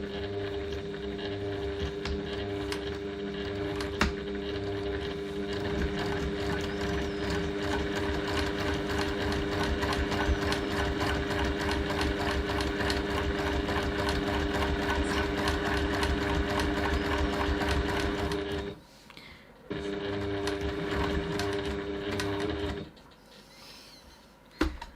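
A sewing machine stitches a pocket seam at a 3.1 stitch length, its motor whirring in a fast, even chatter that stops briefly twice near the end as the fabric is turned.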